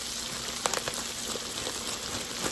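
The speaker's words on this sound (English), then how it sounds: "we need to saute these just a little bit too" Matchstick carrots, previously frozen, sautéing in a soup pot, giving a faint steady sizzle and crackle like light rain, with a few small pops near the start.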